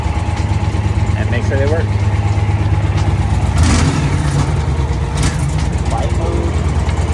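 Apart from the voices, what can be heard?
motorcycle with Dr. Jekill & Mr. Hyde exhaust starting and revving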